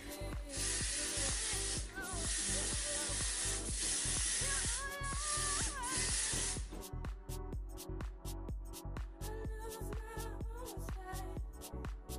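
Memory mist hair spray is sprayed during a curl styling session, a continuous close hiss lasting about six and a half seconds before cutting off, over a rhythmic clicking beat in the background.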